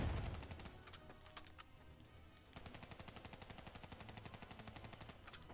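Gunfire from the video game Black Ops 3 campaign, with a quick run of shots followed by a longer stretch of rapid automatic fire, fairly faint throughout.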